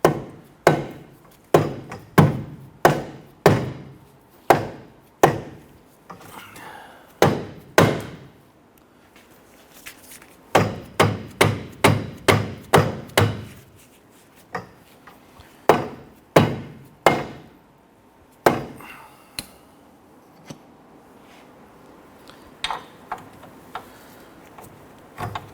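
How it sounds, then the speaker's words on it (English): Repeated heavy thuds of a rubber mallet striking a rear suspension knuckle on a 2006-2010 Honda Ridgeline, coming in quick bursts of blows with short pauses between, close and loud. "You can use the rubber mallet or dead blow hammer to go ahead and smack this down"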